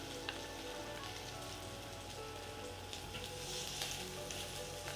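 Steak frying over an open gas flame in a pan, a steady, dense sizzle crackling throughout with small spits and pops, fairly close and continuous with no talking.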